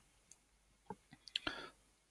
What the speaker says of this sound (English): I'll be typing commands in on this shell here.